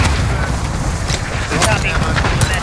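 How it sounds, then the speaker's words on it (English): Booming cluster-strike artillery impacts in Call of Duty: Modern Warfare, a rumbling series of blasts with sharp cracks, heard under radio-style game voices. "Cluster strike is going for launch."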